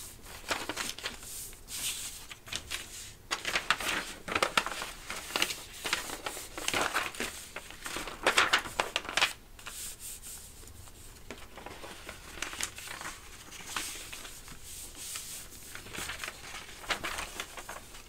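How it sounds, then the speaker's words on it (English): A paper placemat being folded into a flat bag and creased by finger, giving continuous crinkling and crumpling with soft rustles and brief sharper crackles, close and fairly quiet, with no talk. "So now we're just going to take it and pretty much do a reverse fold on those scores."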